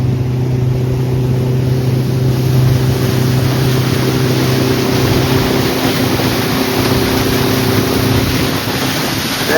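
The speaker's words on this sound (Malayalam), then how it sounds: "ഇവിടെ തൊട്ടടുത്തൂടെ സ്പീഡ് ബോട്ട് പോകുന്നു." Speedboat passing close by on Vembanad lake, a loud, steady engine drone with rushing water and wash that holds strong throughout before easing slightly at the end.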